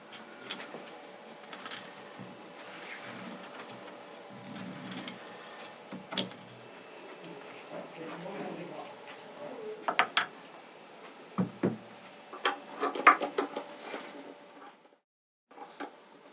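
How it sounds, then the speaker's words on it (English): Wooden violin pegs being shaved in a peg reel shaver turned by a custom hand crank, giving a steady scraping, ratcheting mechanical whir with clustered clicks and clacks that grow louder toward the end. "Now, Jeffrey begins shaving the pegs using the peg reel shaver and his custom hand crank."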